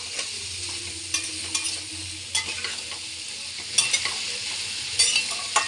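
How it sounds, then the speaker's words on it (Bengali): Papaya stirred and sautéed in a pan over raised heat, a steady soft sizzle broken by repeated scraping stirs of a spoon against the pan, close and alone. "জালটা আমি এখন একটু বাড়িয়ে দিলাম, দিয়ে ভালো করে এটাকে আমি কষতে থাকবো।"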